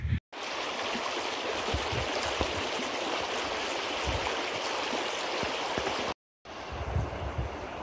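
The Gila River flows in a steady, broadband rush of water, close and continuous, with low thumps of wind or handling and two brief dropouts.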